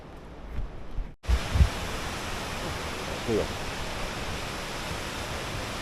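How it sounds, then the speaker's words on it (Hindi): A waterfall near Kugti village in Himachal Pradesh rushes in a continuous broadband roar, with a brief dropout early on and a few faint thumps and handling noises over the steady flow. "ये एक सुंदर सा झरना"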